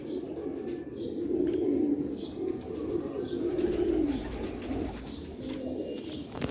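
Soft, repeated low cooing of Sialkoti pigeons, close by, in a gentle rolling rhythm over a quiet background hum.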